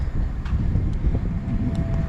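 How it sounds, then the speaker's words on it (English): A Greater Anglia train pulls into a station platform with a heavy, continuous low rumble and wind buffeting, plus a faint steady tone and a few light metallic ticks. "And here comes our train"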